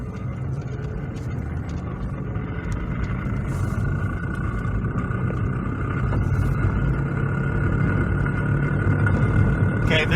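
A bad front wheel bearing on a front-wheel-drive Toyota, picked up through a chassis ear, gives a continuous low droning rumble that gradually grows louder, with faint clicks and road noise mixed in.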